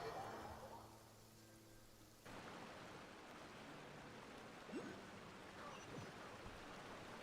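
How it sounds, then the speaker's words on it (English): Soft, steady rain hiss in a video game scene, faint and continuous, with a brief muffled voice at the start. "Rain."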